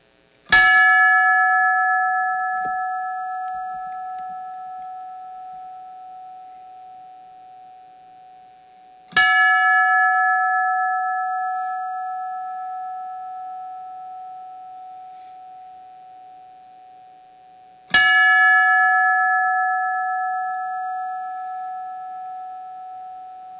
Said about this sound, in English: we sound the bell 3 times in honor and in memory